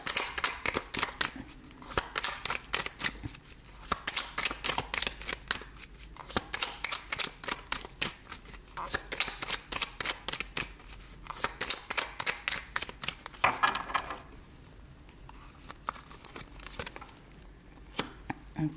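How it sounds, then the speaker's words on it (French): Tarot cards shuffled and flipped over, a long run of quick papery riffles and soft slaps in steady bursts, close and fairly loud with no talk. "Je vais quand même recouvrir quelques cartes pour avoir des informations complémentaires."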